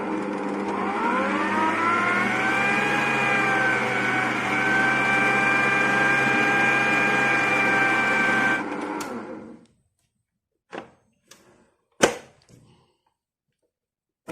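An electric mixer whisks 500 ml of warm water mixture with a steady, loud whirring hum that holds for several seconds, then cuts off, followed by a few sharp knocks and taps.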